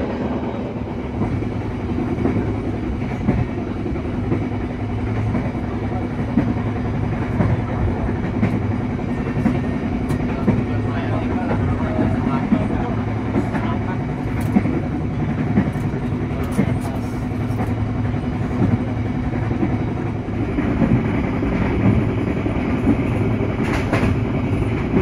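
Steady, loud rumble of an Airlangga economy-class passenger train running on rails, heard from inside the carriage, with continuous wheel noise and faint clicks over a dense, unbroken roar.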